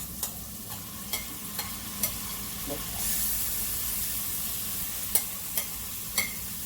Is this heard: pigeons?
no